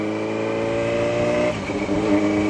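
Car engine running steadily with harmonic drone, then a gear change midway as the tone drops and shifts, shifted without the clutch, continuing to hum closely and loudly.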